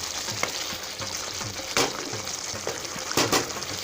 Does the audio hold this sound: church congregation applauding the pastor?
no